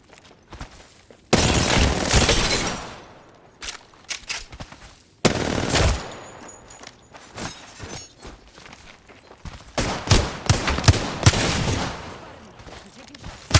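First-person shooter gunfire: loud, close bursts of rapid automatic fire alternate with scattered single shots and short pauses, some bursts long and sustained, others quick and clipped.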